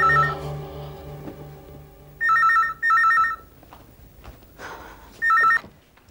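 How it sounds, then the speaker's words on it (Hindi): A landline telephone rings unanswered in three separate electronic bursts, each about half a second to a second long, with quiet room tone and faint background sounds between the rings. "घंटी बज रही है,"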